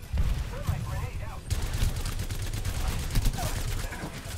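Rapid gunfire rattles through a shooter video game, a dense continuous burst of shots and impacts with someone talking briefly at the start.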